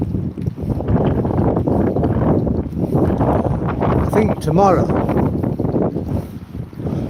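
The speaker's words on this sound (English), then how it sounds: "it's certainly wet and windy here in Withernsea" Wet, windy gusts buffet the microphone on Withernsea promenade, a steady roar of wind noise through the whole stretch, with someone talking over it.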